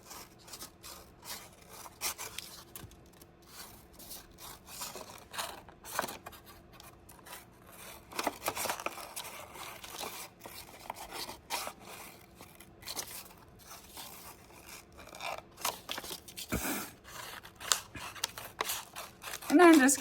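Scissors snip and slide through paper for a collage, a series of close, irregular cuts and rustles spread over twenty seconds while a person talks throughout.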